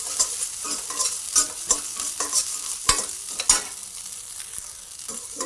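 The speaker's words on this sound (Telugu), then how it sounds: "ఇప్పుడు ఇదే ప్యాన్లో కల్లుప్పు అండి, ఇది కూడా 2 టేబుల్ స్పూన్లు తీసుకొని, లేదా మీరు సరిపడా తీసుకొని ఇట్లా వేయించుకోవాలి" Rock salt is dry-roasted in a pan and stirred with a utensil, heard as close, repeated scraping and rattling strokes in an uneven rhythm over a faint sizzle, with no voices.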